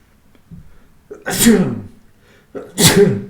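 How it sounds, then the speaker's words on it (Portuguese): Two sharp sneezes in a row, each with a quick preceding inhale and an explosive burst, close to the microphone and loud. "Desculpa, gente, eu tô meio espirrando hoje."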